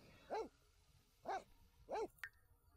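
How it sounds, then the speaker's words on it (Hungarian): Three short, sharp dog barks spaced about a second apart, followed by a brief high chirp, from an aggressive dog in The Sims 4 video game, fairly clear against a quiet background. "Agresszív kutya!"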